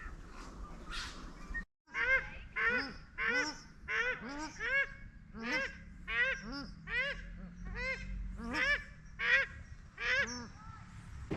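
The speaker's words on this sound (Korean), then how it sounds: "새소리도 들리고" Birds call along a lakeside walking path in Queenstown, giving a steady run of loud, harsh, goose-like honks at close range, one after another with brief gaps, with no talking.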